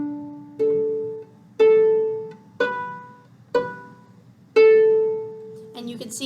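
A violin-family string instrument plays the opening of Twinkle Twinkle Little Star on mostly open strings, six distinct bowed notes in a simple steady rhythm, clear and close with a brief noisy scrape at the end.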